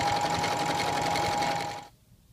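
A sewing machine runs steadily, sewing a straight-stitch 5/8-inch seam with a fast even whirring hum close by, then stops and the sound falls away.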